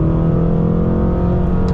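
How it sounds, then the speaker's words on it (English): Stage 2 800HP BMW M6 accelerating after a downshift, a loud, steady engine drone with strong low harmonics throughout a short burst, no talk. "I'm going to drop it down a little bit and then downshift"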